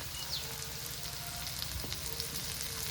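Onion sizzling in hot oil with ginger-garlic paste and chopped green chili, a steady soft crackle and hiss with occasional pops, close and fairly quiet, no voices.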